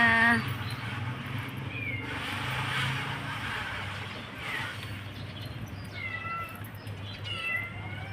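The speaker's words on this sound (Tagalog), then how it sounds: "May naliligaw na pusa." A stray cat meows several times at moderate distance outdoors, short plaintive calls over a low steady background hum of traffic.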